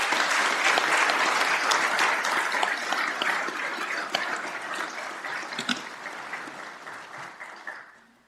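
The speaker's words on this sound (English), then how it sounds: "Let's give them another round of applause, please." An audience at a Fargo Police Department academy graduation and swearing-in ceremony gives a loud burst of applause, a thick wash of clapping that gradually thins and fades away toward the end.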